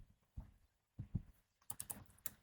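A few quiet keystrokes on a computer keyboard during a Linux terminal session, including a Ctrl+C press, heard as scattered soft clicks in near silence.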